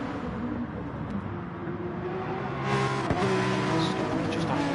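Gran Turismo Porsche race cars hold a steady engine drone that grows louder past the midpoint, racing on Dragon Trail Seaside circuit in a Gr.3 league.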